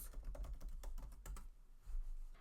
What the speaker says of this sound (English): I'm going to hit New and I'll type in spring projects.